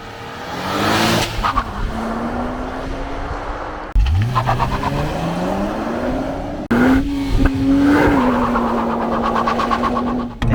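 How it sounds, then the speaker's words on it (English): A 2024 Nissan Z does a launch-control 0 to 60 run, engine loud and close, revs climbing through gears with sharp shifts at about four and seven seconds, tire noise beneath, no talk. "it's time to put it in sport mode so we can get a 0 to 60 rip"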